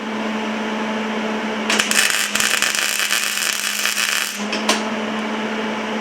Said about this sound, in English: I'm using my little Miller 110 welder with flux core wire in it